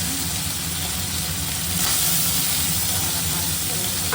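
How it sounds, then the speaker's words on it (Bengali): Fish pieces rubbed with turmeric and salt fry in plenty of oil, making a loud, dense, continuous sizzle and hiss close up that holds steady throughout. "এখন মাছ ভাজা হচ্ছে"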